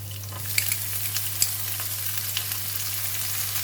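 Yellow onions and vegetables stir frying in a pan for egg fried rice, a steady close sizzle with a few light stirring clicks and no talking.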